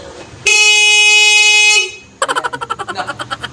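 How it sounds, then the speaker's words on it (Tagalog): A malfunctioning motorcycle horn blares loud and steady for over a second, then breaks into a rapid stuttering series of short honks, close and harsh. "Pati yung busina nagwa-wild, tingnan nyo."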